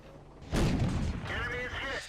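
A heavy cannon shot from an enemy tank in World of Tanks, facing a Somua S-35 CA tank destroyer, lands as one loud, booming blast followed by a rumbling impact and tail, while someone talks over it.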